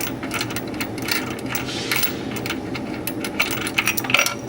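Driver's side subframe bolts on a MINI are worked loose with a tool: a steady run of rapid metallic clicking and rattling, fairly close and continuous, getting slightly busier toward the end.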